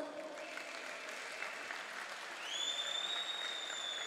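An arena crowd at a kickboxing gala applauds steadily and loudly throughout, while music with rising, sustained tones plays alongside the clapping.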